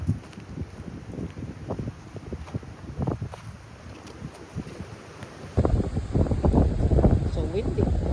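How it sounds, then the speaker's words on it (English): Strong gusty wind at a riverside overlook buffets the microphone in rumbling bursts, growing louder partway through, with people talking faintly underneath. "So windy."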